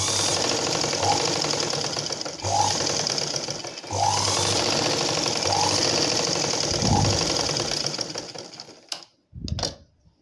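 A sewing machine stitches a blouse in steady runs of rapid mechanical whirring, pausing briefly between bursts, close and loud, then stopping near the end with a few handling knocks.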